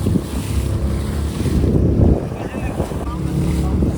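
Fishing boat out at sea in rough, rainy weather, its engine a steady low rumble under buffeting wind noise and washing waves, loud and continuous throughout.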